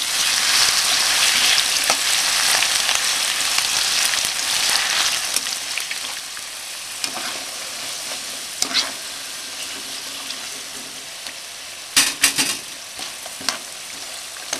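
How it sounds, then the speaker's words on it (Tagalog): Sliced potatoes frying in hot cooking oil, a steady dense sizzle that eases slightly partway through, with a few sharp crackles and utensil clicks toward the end, no talking. "mainit na yung ating cooking oil. So, ilalagay na natin yung mga patatas."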